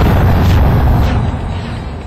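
A T-72 tank fires at a target with one loud, close boom that rolls off into a rumbling decay over about two seconds.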